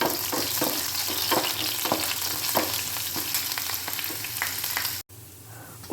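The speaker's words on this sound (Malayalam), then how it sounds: "ഞാൻ അതിലേക്ക് കുറച്ച് കറിവേപ്പിൻ്റെ ഇല ഇതൊന്ന് നന്നായി മൂപ്പിച്ചെടുക്കാം." Chopped shallots, garlic and curry leaves frying in hot oil for a Kerala-style meat curry with potatoes and soya chunks, a steady close crackling sizzle with stirring scrapes, cutting off briefly near the end.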